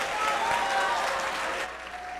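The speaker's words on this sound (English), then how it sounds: "A huge round of applause for our co-heads of the Assembly Committee" Steady, dense applause from an audience honoring the co-heads of an assembly committee at a school performance event, with faint cheering tones over the clapping, sustained throughout and easing slightly near the end.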